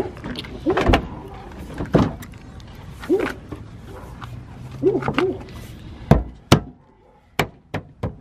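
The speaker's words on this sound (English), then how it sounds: "It literally snaps right in like that, guys" Plastic bumper part on a 2008–2012 Honda Accord snapping into place during a tail light replacement, several sharp clicks and knocks scattered across the clip, close and loud.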